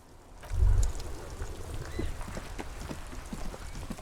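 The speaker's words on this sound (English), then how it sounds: "This rain will not let up anytime soon." Steady rain falls in the Disco Elysium video game, a dense, even patter of drops with a brief heavier rush near the start, continuous and unaccompanied by talk.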